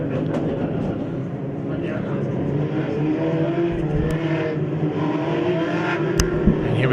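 Race cars launching at the start of race 2 of the INEX Legends at a regional festival, a dense engine roar heard throughout, with a commentator talking over it.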